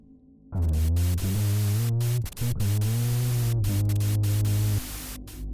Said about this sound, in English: his gaze turned towards the radio, which was now almost entirely static